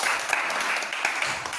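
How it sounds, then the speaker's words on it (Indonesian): Short burst of applause for a student at a school, many hands clapping together in a dense, lively patter for a second or two. "sama tepuk tangan untuk Iren dulu"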